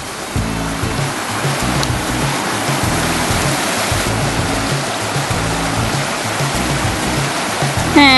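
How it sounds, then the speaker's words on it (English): A small creek flowing through forest on a Cradle Mountain hike in Tasmania, a steady close rush and babble of running water that fills the whole stretch, with no voices. "To a beautiful little creek."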